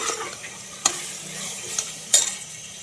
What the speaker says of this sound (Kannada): ಚೆನ್ನಾಗಿ ಮಿಕ್ಸ್ ಮಾಡ್ಕೊಳ್ಳಿ ಫ್ರೈ ಆಗಲಿ ನೀಟಾಗಿ ಅದು ಎಣ್ಣೆನಲ್ಲಿ